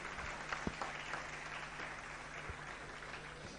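Faint, distant applause from an audience clapping for a teacher at a coaching-institute event, a soft steady patter with a few sharper claps.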